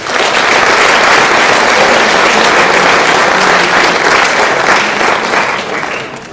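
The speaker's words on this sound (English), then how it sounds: "Let's give him a round of applause." Sustained applause from a school sports awards audience honoring golf MVP Nolan Reed, a dense, loud wash of clapping that holds steady for about six seconds before easing slightly at the end.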